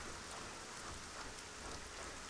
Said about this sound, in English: Oh, back into the rain.